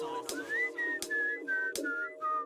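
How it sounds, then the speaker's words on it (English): A person whistles a slow, wavering melody in a series of sustained notes, with several sharp clicks or taps breaking in between phrases. "I whistle."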